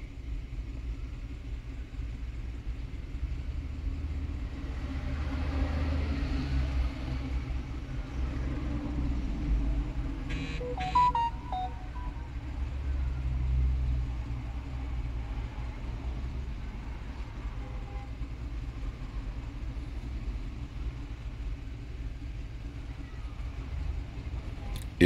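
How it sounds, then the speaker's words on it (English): A Hyundai car engine idles with a constant low rumble throughout, joined by a few faint clicks and a brief brighter tone partway through, and no clear speech. "The car is still running"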